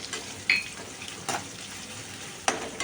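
Onions fry in hot oil in a single pot for rava upma, a continuous close sizzle punctuated by three brief scraping strokes of a spoon stirring.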